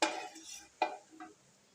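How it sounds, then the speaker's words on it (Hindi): White cumin seeds roasting in a pot as a spoon stirs them, heard as a few short close scrapes and clinks of metal against the pot with a faint sizzle between, no talking. "और साथ ही हम इसमें डाल देंगे 1 चम्मच ज़ीरा सफ़ेद, और थोड़ा सा इसको भून लेंगे।"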